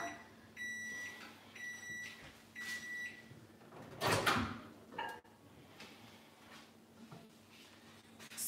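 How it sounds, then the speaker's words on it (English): A microwave oven heating Hausa koko, a sorghum porridge, beeps three times in short bursts over a steady low hum, with a door clunk and rustling handling noises nearby. "you can use your microwave to cook your Hausa Koko as well"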